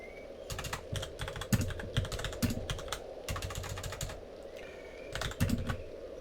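Someone types a message on a computer keyboard, with quick clattering bursts of keystrokes broken by short pauses, close and fairly quiet over a low background hum, with no talk.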